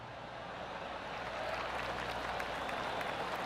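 A golf crowd applauds a shot with a steady wash of clapping that swells slightly and holds, heard from a distance with no voices on top.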